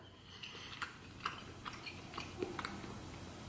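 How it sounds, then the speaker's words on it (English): Lobster meat being chewed slowly and at length during a seafood boil meal, soft wet mouth clicks and smacks repeating irregularly, close and quiet with no talk. "notice I'm chewing longer"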